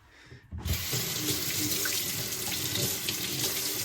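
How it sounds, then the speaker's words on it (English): A kitchen tap turns on after a short quiet moment, and a steady close stream of running water follows as a knife is rinsed under it, with no voices. "I'm gonna rinse off this knife"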